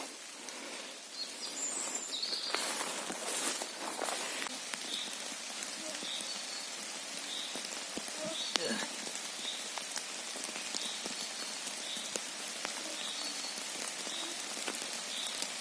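Steady rain patters on leaves and surfaces in a mushroom-growing woodland throughout, with a few soft bird chirps faintly in the background.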